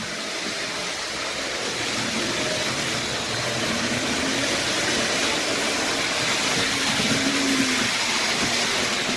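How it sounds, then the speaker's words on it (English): An OO gauge kit-built Flatiron model locomotive in LMS livery runs round a layout, giving a steady, continuous whirr of motor and wheel rumble at even loudness with no talking. "there's the kit-built Flatiron going round after a bit of a poke to get him started"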